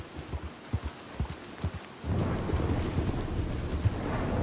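Thunderstorm in the video game Red Dead Redemption 2: scattered low thumps and rumbles give way to a steady, dense roar of wind and rain that holds loud to the end, with no talk.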